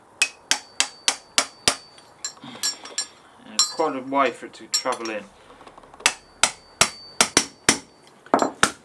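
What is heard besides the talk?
hammering a ring into a motorcycle front fork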